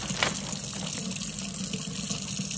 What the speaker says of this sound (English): So what we're gonna do is rinse this with cold water